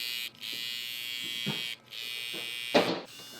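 An electric hair clipper trimmer hums at a high steady buzz, cutting off briefly twice and then resuming, with soft handling noises and a faint voice in between.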